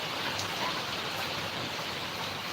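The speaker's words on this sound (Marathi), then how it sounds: "पाऊस चालू आहे" Steady rain pours down in Karnataka during a stretch of bad weather, a dense, even hiss of drops striking surfaces that stays loud and close with no let-up.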